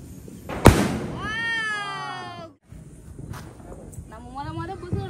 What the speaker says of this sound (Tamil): இந்த பட்டாசு இதான் வெடி பாப்போம்.